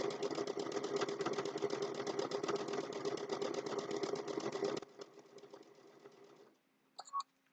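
A sewing machine runs steadily as it stitches a fabric napkin with mitered corners, a fast even rattle that slows and stops near the end, followed by a faint click.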